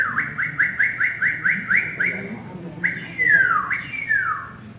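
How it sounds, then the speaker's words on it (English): A cardinal sings a clear, loud series of rapid repeated whistled notes, then shifts to longer downward-slurred whistles, close and alone. "all the cardinals in the neighborhood are singing the same song at the same time"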